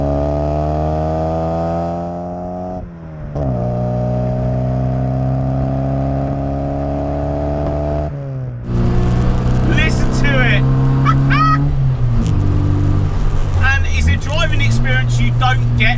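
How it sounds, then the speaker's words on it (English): A classic Mini's small engine hums with a rising gearbox whine, shifts gears, then the exhaust burbles and crackles under a voice. "You've got whine from the gearbox, you've got burble from the exhaust."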